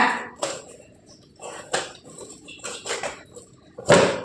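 A knife cuts the peel off pineapples in a close, quiet kitchen. Several sharp, irregular knocks and clacks of the blade against a board break up the near silence, ending in a louder hit, with no talking.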